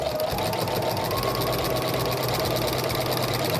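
A sewing machine with a walking foot stitches straight lines through a quilt sandwich, running in a steady, continuous mechanical whir with a dense rapid needle rhythm throughout, close and unbroken.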